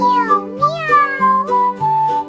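A cat's meows come as a string of sung-sounding calls in a children's song, close and clear with steady rhythm; the pitched, tonal contours suggest a voice imitating the cat over music.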